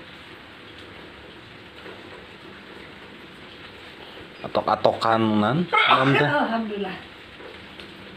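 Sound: rain falling outside the house

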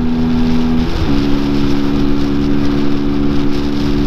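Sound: Peugeot PM-01 motorcycle engine accelerating uphill

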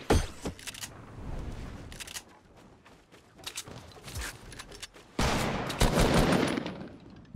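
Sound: gunfire in a video game

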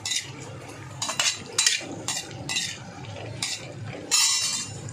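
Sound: stirring cashews roasting in ghee in a pan

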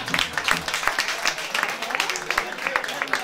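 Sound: audience applause at a jazz concert

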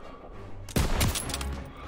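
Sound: gunfire in video game Call of Duty WWII

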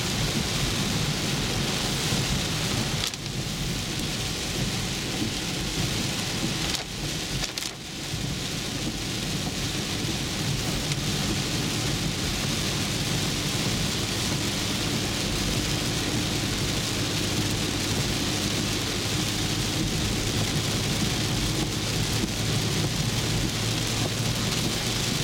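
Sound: heavy rainstorm with thunder while driving

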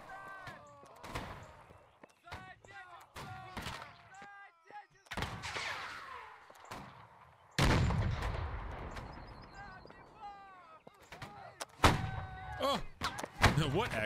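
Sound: rifle gunfire in the video game Holdfast

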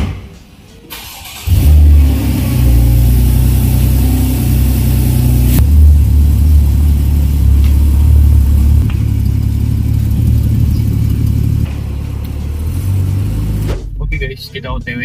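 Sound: Porsche Boxster car driving off, engine revving

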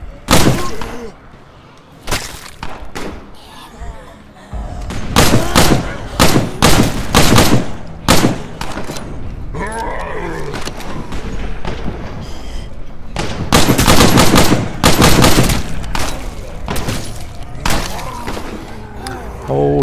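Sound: gunfire in the video game State of Decay

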